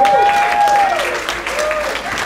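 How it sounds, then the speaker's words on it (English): A community organizing crowd in Miami Gardens claps for the friends who got them there, a short burst of scattered applause mixed with cheers and tonal whoops over the clapping. "can you all clap it up for the friends who got us here?"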